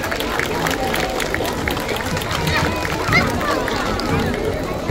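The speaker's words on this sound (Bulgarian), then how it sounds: "Честито, да ги изпратим с аплодисменти." At a festive kindergarten concert, an audience applauds the children with steady, dense clapping and background chatter, while a presenter speaks over it.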